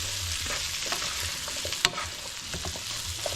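Sausage sizzling and frying in a buttered pan as stuffing prep, a steady dense hiss with soft stirring scrapes and one sharp clack partway through, no talking.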